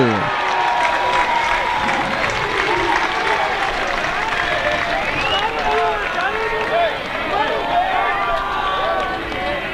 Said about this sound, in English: Good crowd on hand tonight, and they're getting a little bit boisterous here in the 9th.